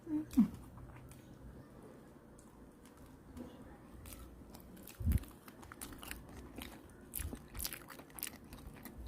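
Close, soft chewing and biting of food, with a few crunchy bites and small crinkles over low room noise, with a voice briefly speaking nearby.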